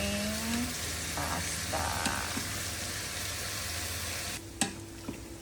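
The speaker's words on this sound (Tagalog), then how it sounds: "Haluin lang natin hanggang sa mag-golden brown yung bacon natin." Bacon sizzles in a pan under a low, continuous frying hiss while being stirred, with faint utensil scrapes and a couple of sharper clinks near the end; a voice speaks briefly and quietly.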